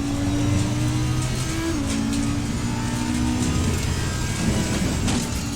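A high-pitched Audi race car engine in Assetto Corsa Competizione drones steadily, its pitch dropping with a gear shift partway through, heard from inside the car.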